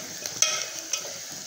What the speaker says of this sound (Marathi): कांदा आणि हे खोबरं मस्तपैकी आणखीन 1 मिनिट भाजून घेऊ